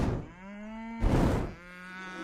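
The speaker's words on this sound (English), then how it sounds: "The cows ran towards Shere Khan." Cattle moo loudly and close in long drawn-out calls, with a short burst of rough noise between them and no talking.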